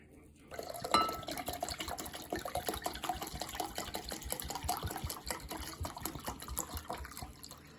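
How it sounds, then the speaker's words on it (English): Three cups of red wine pour into a cooking pot, a steady liquid splash and gurgle with light clinks of kitchenware, fairly close and continuous. "Then we pour in 3 cups of red wine, which is what we're doing right now."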